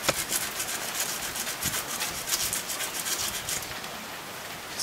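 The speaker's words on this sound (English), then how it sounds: "So I'm just going to clean it up with a little piece of sandpaper." Sandpaper rubs by hand across the metal sealing surface of a front brake part on a Ford Festiva, making a continuous raspy scrubbing in quick back-and-forth strokes, close and steady, with no talk.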